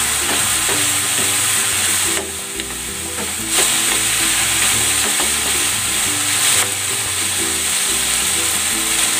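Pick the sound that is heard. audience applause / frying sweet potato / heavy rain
frying sweet potato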